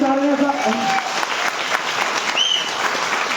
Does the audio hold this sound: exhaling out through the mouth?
no